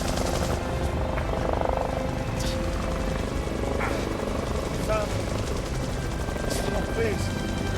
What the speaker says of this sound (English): hear the drone of the helicopter engines